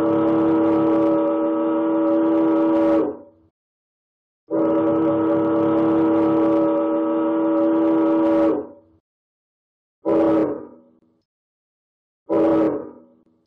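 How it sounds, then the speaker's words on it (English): A ship's whistle sounds the overtaking-agreement signal: two long, steady blasts, then two short ones, loud and tonal with nothing else heard. "shall indicate her agreement by the following signal on her whistle"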